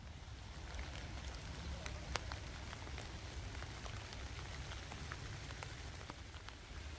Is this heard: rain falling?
yes